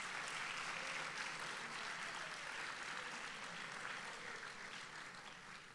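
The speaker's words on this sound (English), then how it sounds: "Another round of applause for all our award winners this morning." Sustained applause from an audience at a high school awards day ceremony honoring award winners, many hands clapping evenly throughout and tapering slightly near the end, moderately distant.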